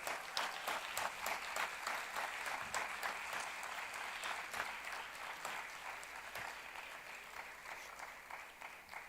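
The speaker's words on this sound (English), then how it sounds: "So can we please have a huge round of applause for all of them?" Sustained round of applause from a summit audience at the Y20 Summit in Varanasi, dense steady clapping at moderate distance with a few sharper individual claps standing out, holding level throughout.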